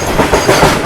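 The Secunderabad to Repalle Express passenger train rolls along with a loud, continuous rumble and clatter of wheels on track, heard close from on board with no voices.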